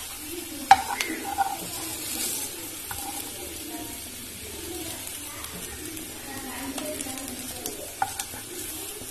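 Aloo sweet corn tikki patties fry in a pan with a soft, ongoing sizzle and occasional stirring scrapes, while a voice talks at times and faint bird calls sound in the background.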